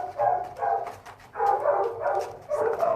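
A dog whimpers and barks in a series of whiny, yelping bursts at close range while trying out a rolling treat-dispensing toy, with no talking.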